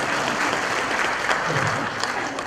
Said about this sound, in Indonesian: Makanya kalau dia boleh tepuk tangan buat beliau.